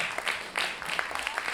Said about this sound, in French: On applaudit Métamo, s'il vous plaît.